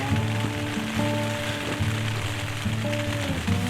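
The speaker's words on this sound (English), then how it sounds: "Rain, sleet, snow, wind." Steady rain and wind batter a hunting tent during a long storm of rain, sleet and snow, a continuous dense hiss with low tonal hum running underneath, no talking.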